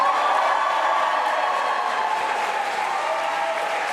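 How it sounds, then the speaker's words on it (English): An election count hall fills with sustained, dense applause for a newly re-elected Member of Parliament, a steady wash of clapping from a large crowd. "Huge round of applause for Ian Lavery there, keeping that seat."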